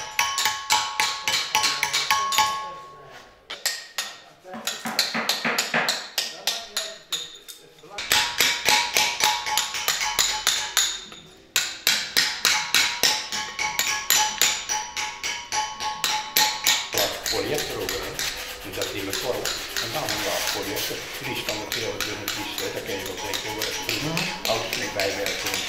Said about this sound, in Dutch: En op een drukke dag dan staan we hier met 5, 6 mensen flink te hakken.